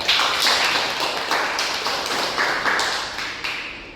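A classroom audience claps steadily for a student who gave a correct answer, dense overlapping hand claps at close range that stay loud for the whole stretch and fade slightly at the end.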